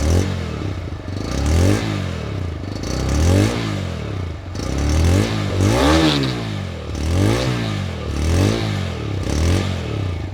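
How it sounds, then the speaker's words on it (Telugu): A TVS Raider 125 motorcycle, a 2025 125cc bike, revs repeatedly with its exhaust, each throttle blip rising and falling in a steady rhythm; close and loud, with no talk. "ఎగ్జాస్ట్ నోట్ ఎలా ఉందో ఒకసారి చూద్దాం మనం"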